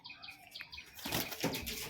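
A High Flying Giribaz pigeon released from the hand beats its wings in a short, close flutter. The quick whirring flaps swell in the second half of the clip.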